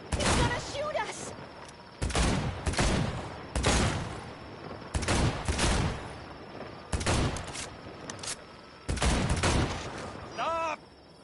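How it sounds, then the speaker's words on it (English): Enemy gunfire in the video game Cyberpunk 2077: loud, repeated bursts of shots in several volleys over about ten seconds, each separated by short gaps. "He's gonna shoot us!"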